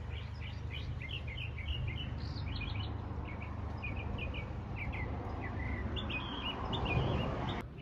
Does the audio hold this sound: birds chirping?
yes